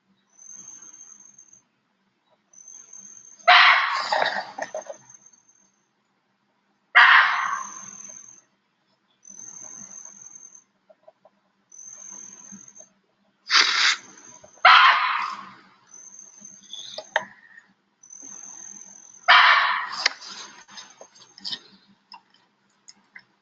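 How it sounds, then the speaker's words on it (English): Barking deer alarm calls in the jungle, a series of loud, sharp, dog-like barks repeating at irregular intervals of a few seconds, over a steady high insect whine. "the first time I heard a barking deer alarm call, I thought that somebody's little Spitz or Pomeranian had gotten loose"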